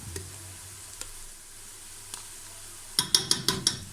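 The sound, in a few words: frying vegetables in a pan until golden brown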